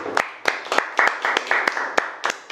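A studio audience at a Korean comedy reaction lecture claps in a series of sharp, separate bursts, fairly close and loud, with a voice speaking between the claps.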